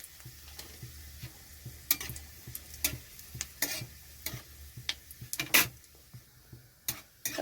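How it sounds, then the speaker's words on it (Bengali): Dried whole red chillies and nigella seeds frying in mustard oil, a soft close sizzle broken by sharp crackles and pops at irregular intervals, no voices. "এখানে দিয়ে দিচ্ছি শুকনো গোটা লঙ্কা আর কালো জিরে।"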